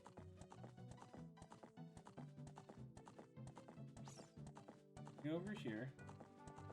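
Horse hooves clip-clop in The Legend of Zelda: Ocarina of Time, a steady rhythmic trot layered with game music, with a brief whinny near the end and a voice talking over it.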